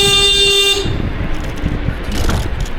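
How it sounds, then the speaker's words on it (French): A loud electric scooter horn (Kukirin) gives one steady tonal honk lasting under a second, followed by road and rolling noise from the ride. "on doit klaxonner pour faire signe au conducteur"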